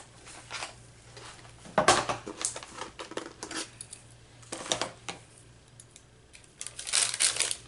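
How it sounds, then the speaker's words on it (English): Small scissors snip through paper in short rasping cuts separated by pauses, close and quiet, with light handling noise between the cuts. "Let me get my small scissors."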